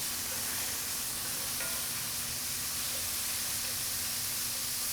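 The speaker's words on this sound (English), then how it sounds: "We'll let that bacon get going" Bacon sizzles on a pellet grill over direct flame, a dense, constant crackling hiss that stays loud and even throughout, close up with no voices.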